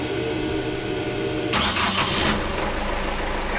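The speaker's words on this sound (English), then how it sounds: "start the engine." A sailing boat's engine starts up: steady rumbling background noise is joined midway by a burst of cranking and catching, then the engine settles into a continuous running drone, close by.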